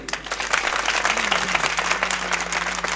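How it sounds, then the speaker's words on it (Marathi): A kirtan audience claps loudly together in a dense, continuous burst of applause, close and full for the whole stretch. "असेच राजासारखी मोठ्यानी टाळी जरा मोठ्यानी"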